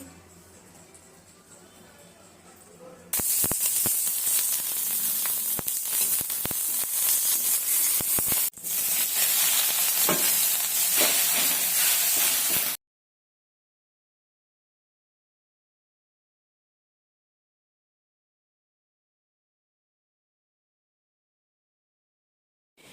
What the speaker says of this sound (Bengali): লঙ্কাটা ভেজে নিচ্ছি